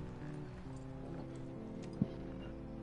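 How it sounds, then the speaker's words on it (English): Horse hooves clip-clopping in the video game The Last of Us, faint steady hoofbeats under a low droning background, with one louder thump partway through. "get off your horse."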